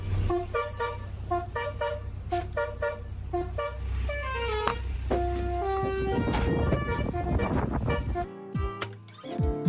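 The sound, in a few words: car horn honking in GTA video game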